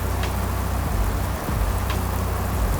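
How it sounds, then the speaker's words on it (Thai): Steady rain hisses continuously with a broad, dense wash of noise and a low hum underneath, heavy and unbroken. "ฝนตกหนัก"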